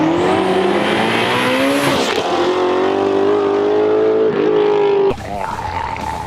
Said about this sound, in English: I didn't think that the sound of the GT350 could be improved